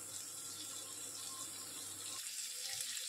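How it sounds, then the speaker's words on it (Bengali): Hot water being poured into a pan of prawn curry with potatoes and string beans, a steady hissing pour that continues, then drops off near the end, with no talk. "এখন আমি এর মধ্যে দিয়ে দেবো গরম জল।"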